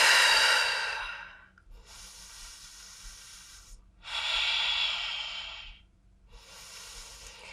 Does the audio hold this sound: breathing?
yes